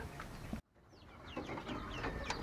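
Small young chickens cluck and peep softly in short, scattered calls after a brief cut, over steady background noise.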